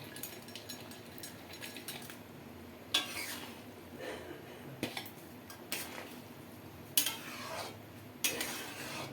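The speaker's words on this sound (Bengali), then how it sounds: "ভালো করে ঝোলের সঙ্গে মিশিয়ে দেবো পনিরটা" A spoon scrapes and clinks against a pan as fried paneer is stirred into a vegetable curry, a series of soft, intermittent metallic knocks over a faint low simmer.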